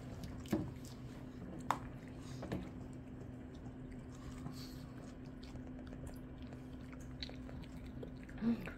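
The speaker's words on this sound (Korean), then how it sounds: "내내는 코 박고 먹기 시작이네" A shih tzu dog eating food, with faint, close chewing and wet biting sounds and a few soft clicks against a quiet, low hum in the background.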